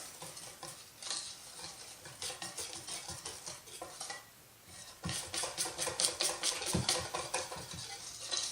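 A spoon stirs quinoa waffle batter in a bowl, a run of quick rhythmic scraping and tapping strokes that pauses briefly and then resumes more vigorously, close and moderately loud.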